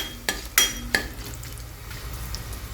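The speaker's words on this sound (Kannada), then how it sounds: "ಎಲ್ಲನೂ ಫ್ರೈ ಆಗಲಿ ರೀ" Cumin, dried chilli, bay leaf and asafoetida frying in hot oil, a soft steady sizzle under three quick metallic clinks of a spoon against the pan near the start.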